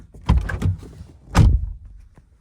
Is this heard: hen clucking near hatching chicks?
no